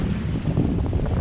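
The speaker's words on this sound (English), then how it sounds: "We've got these kind of funky north-northwest winds" Wind blows hard across a sailboat at sea, a steady rushing roar buffeting the microphone, with low rumbling gusts and no voices.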